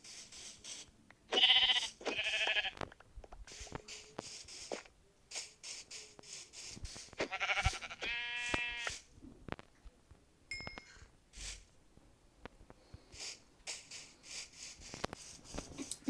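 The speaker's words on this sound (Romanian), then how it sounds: "Uite oi pe lângă noi." Sheep in the Minecraft video game bleat in short, repeated calls, several loud and close, others quieter, spaced across the span with brief pauses between them and no talking.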